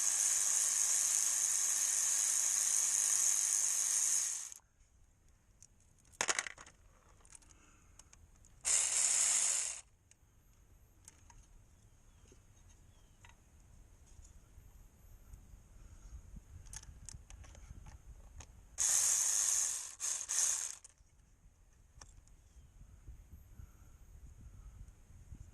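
A ratchet clicks rapidly in short close bursts while backing out shallow bolts on the conductor plate of a Mercedes 722.6 automatic transmission, separated by quiet stretches of faint shop noise and small metallic handling sounds.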